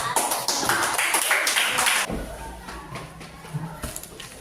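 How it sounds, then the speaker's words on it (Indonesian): Classroom applause for a student group, a dense patter of claps for about two seconds, then thinning into scattered taps and room noise. "Berikan aplaus untuk kelompok."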